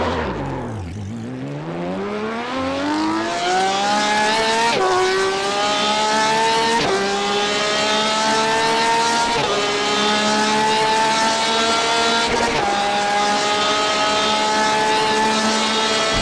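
A Porsche RSR race car in iRacing accelerates hard toward top speed, its engine note climbing steadily through several upshifts with brief dips at each gear change, loud and continuous with no talk.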